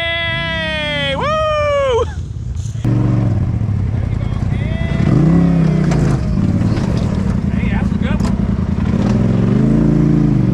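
A Polaris RZR side-by-side's engine revs hard under throttle on a mountain trail, a loud, close, sustained roar that rises and falls with the throttle, while people shout and cheer over it.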